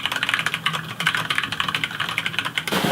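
Rapid clicking keystrokes on a Koolertron programmable split mechanical keyboard, a steady close-up burst of typing with no voices, ending in a brief rustle.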